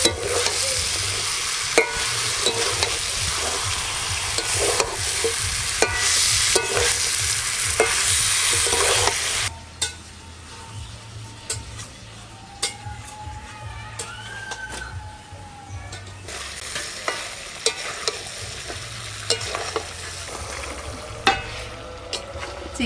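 Chicken stir-fries in oil in a pan, with loud continuous sizzling and repeated scraping strokes, then the hiss drops to a quieter simmer with occasional clinks and stirs.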